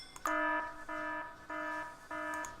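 A telephone-like ring alarm from a programmable speaker in the factory-building game Factorio sounds in four even tonal bursts, each a bright harmonic trill, loud and alone without talk.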